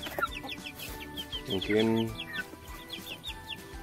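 Free-range village chickens cluck and chirp in short repeated calls through the clip, with a brief louder squawk near the middle and a few background voices.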